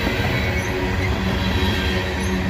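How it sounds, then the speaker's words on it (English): A loaded CSX coal train from Pennsylvania rolls steadily past close by, a dense, continuous rumble of wheels and cars with faint metallic squeals above it, heard on its own without talk. "This is a loaded coal train that comes out of Pennsylvania, rolls through West Virginia"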